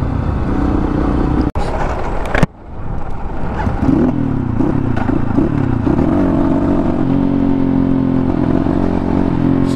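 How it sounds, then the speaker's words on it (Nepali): A newly launched Asian Beast motorcycle rides through Nepal, its engine droning loud and steady throughout, with a brief thump and a short dip before the rumble resumes with shifting pitch. "म चाहिँ अहिले नेपालको न्युली लन्च बाइक है एसियन बिस्टमा चाहिँ छु"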